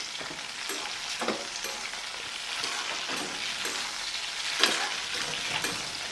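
Ingredients for a roti pachadi chutney fry in a pan with a continuous close sizzle, broken by repeated scraping and stirring strokes at irregular intervals.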